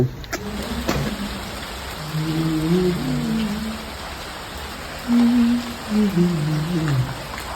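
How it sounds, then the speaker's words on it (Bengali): Rain falls steadily outdoors as a continuous broadband hiss, with faint tonal sounds drifting over it at times. "বৃষ্টি হচ্ছে"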